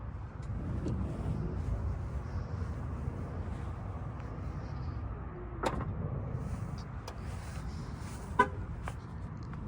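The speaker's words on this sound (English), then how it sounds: "Up top, you do have that power lift gate, and then this will lock the vehicle, and then this is obviously to bring it down." Power liftgate of a 2024 Mercedes-Benz EQB300 4MATIC closing outdoors: a steady low motor whir runs throughout, with a dull thud midway and a short electronic beep near the end.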